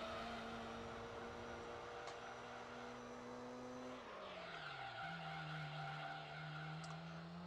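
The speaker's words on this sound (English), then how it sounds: "it sounds like you raced with 2 cars at the same time" Racing cars in the video game Gran Turismo 3 skidding with a steady whining engine drone and tire squeal, the pitch dropping partway through, with no talk over it.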